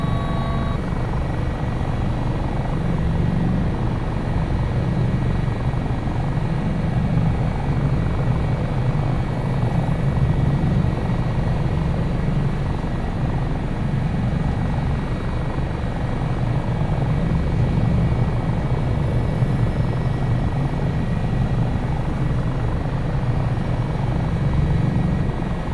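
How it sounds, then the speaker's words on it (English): An HH-65 Dolphin helicopter in Microsoft Flight Simulator 2024 lifts off near buildings, its rotor and turbine giving a steady, loud, continuous thrum and whine throughout with no talk. "We will lift over the buildings here, pick up some transitional lift."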